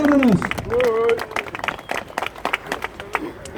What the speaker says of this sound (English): Big round of applause for Margaret.